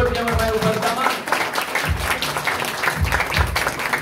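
A worship congregation bursts into loud, sustained clapping that fills the hall, with many hands patting in a thick, continuous wash for several seconds while a voice and some tonal sound briefly mingle in at the start.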